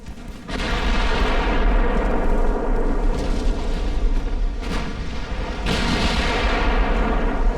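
Heavy 8.9-inch naval guns firing in the warship game Ultimate Admiral: Dreadnoughts, with several deep booming salvos over a steady rumbling battle din, loud and continuous throughout.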